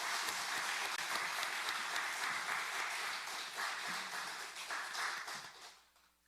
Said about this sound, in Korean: 축복하고 격려하는 박수 한번 더 하도록 하겠습니다.